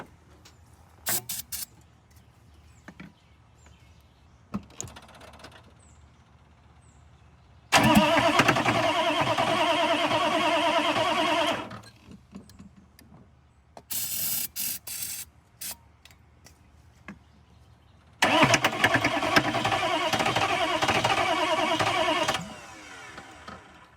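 A 1995 Chevy 6.5 diesel engine cranking without catching, two long loud bursts of starter grinding separated by clicks, rattles and short shop noises, heard up close.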